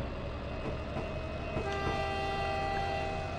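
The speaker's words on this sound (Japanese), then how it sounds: "ここは警笛か" Horn of an Enoshima Electric Railway Deha 1000 series train in the Densha de GO! driving game, a sustained steady toot sounding over a continuous engine and rail hum.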